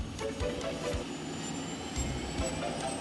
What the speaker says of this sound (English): They inexplicably have an entire plane take off as the rotating sound.